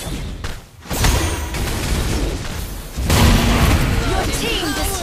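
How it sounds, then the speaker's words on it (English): A turret being destroyed in the mobile battle game Mobile Legends, heard as loud booming thuds and crashing blasts amid busy game effects, with a voice talking over it. "You destroy the turret."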